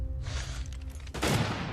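Gunfire rings out in a brief, loud burst of overlapping shots with a rumbling low end, close and alone without speech.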